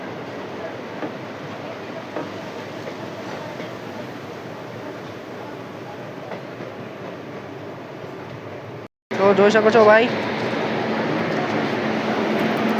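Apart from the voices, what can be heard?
Porbandar-Rajkot express train at station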